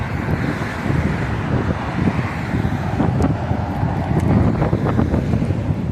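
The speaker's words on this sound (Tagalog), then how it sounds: "Mahangin talaga." Steady wind buffets the microphone during a scooter ride on a Las Vegas sidewalk, a constant rumbling roar with faint traffic noise underneath.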